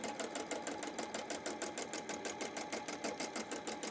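A sewing machine stitches free-motion quilting, used here for thread painting, in a steady, fast run of rapid evenly spaced needle strokes, close and continuous with no voices.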